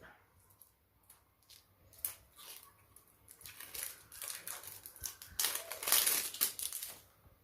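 Plastic toy packaging crinkles and crunches as scissors snip through it, irregular bursts of crackling growing louder and busier toward the end.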